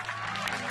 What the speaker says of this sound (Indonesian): Tepuk tangan untuk Iwan Fals.